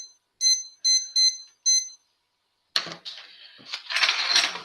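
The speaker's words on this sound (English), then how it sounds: "I'm gonna get this out of here and set a timer." A kitchen timer is set for 20 minutes during a cooking demo, giving four short, bright electronic beeps in quick succession, then scraping and clattering handling noises as the dish goes into a 400-degree oven.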